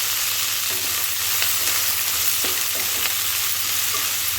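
Sliced onions fry for Kerala-style chicken kondattam, with a dense steady sizzle and intermittent scraping taps as a spoon stirs them in the pan; no one speaks.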